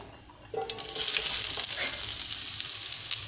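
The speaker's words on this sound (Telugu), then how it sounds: "ఆయిల్ వేడెక్కుతూ ఉంది. ఇప్పుడు ఆనియన్స్ వేస్తానండి" Chopped onions hit three tablespoons of hot oil with a sudden loud sizzle that settles into a steady, close hiss of frying, as for an egg cauliflower curry.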